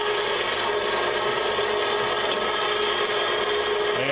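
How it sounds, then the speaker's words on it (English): A 1 hp 4x6 band saw set up vertically cuts through material with a continuous, close, loud rasping whine that holds steady for the whole stretch without a break or any voices. "Okay, using it as a vertical bandsaw, it's really pretty simple."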